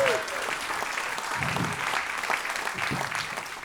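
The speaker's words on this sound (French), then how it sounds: "Merci Marido, on peut l'applaudir." A crowd applauds steadily, a broad wash of clapping that holds for several seconds without pause.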